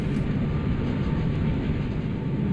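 A Milwaukee Road electric train enters tunnel number 28 near Falcon, Idaho, with a loud, steady rumbling roar of wheels and motors that stays close throughout.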